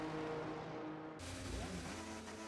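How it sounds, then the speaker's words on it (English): Race cars in a sim racing game head out toward the Qatar circuit during an esports qualifier, their engines a steady, fairly loud drone that swells after a brief quieter start, with no talk over them. "as you can hear in the background, have cars making their way to the circuit"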